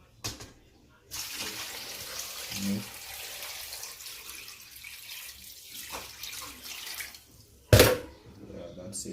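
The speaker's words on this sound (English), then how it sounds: "Alright, then I'm gonna put some water." Water runs into a cooking pot for a lobster cook in Jamaica, a soft steady splashing stream with a few brief louder clatters, and people talk at times.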